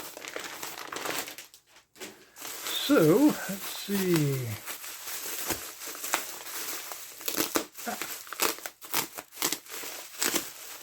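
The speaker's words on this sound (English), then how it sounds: "I scored some nice plastic bags." Plastic bags from a Digikey electronics order crinkle and crunch close up, loud irregular rustling bursts with a few pauses, while a person briefly speaks.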